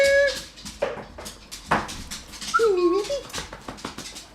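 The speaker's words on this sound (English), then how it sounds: "I don't know what my dog's doing. He's going absolutely mental." A dog whimpers and whines excitedly in high, wavering squeaks between breathy panting, close by, with faint talk in the room.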